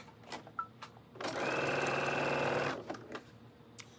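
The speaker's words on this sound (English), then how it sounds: "I'm just going to sew 2 by 2 with my 1/4 of an inch seam allowance" A sewing machine runs in one steady burst of about a second and a half, stitching two-by-two quilt block pieces with a quarter-inch seam for a spring tulip quilt, with quiet handling clicks before and after.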